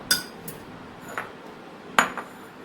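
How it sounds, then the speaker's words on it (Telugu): A ladle scrapes and clinks against a vessel as oil is mixed into raw mango pieces. The sharp metallic taps are sparse, with a few distinct knocks over a quiet background. "మొదట ఈ గరిటెతో సగం గరిటెడు నూనెను ఈ ముక్కల మీద, పచ్చి ముక్కల పైన వేసి చక్కగా కలుపుకోవాలి"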